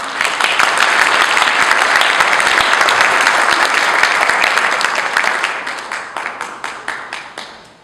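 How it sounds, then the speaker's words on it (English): A large audience at an Italian club concert of Italian composers applauds loudly and steadily, then the clapping thins out into scattered individual claps as it dies away. "give them a round of applause"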